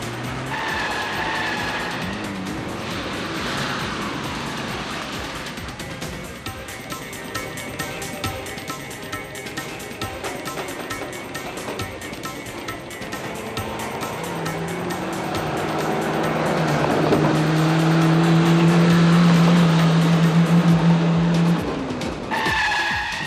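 A car drives fast with a loud, continuous engine roar that rises and strains, tires squealing near the end before it cuts off.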